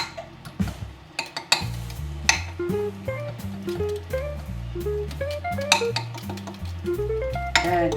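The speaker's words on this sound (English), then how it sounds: "you see how I'm stirring it like this?" A spoon stirs apple cinnamon pancake batter in a home kitchen bowl, giving light, repeated clinks and scrapes under steady background music.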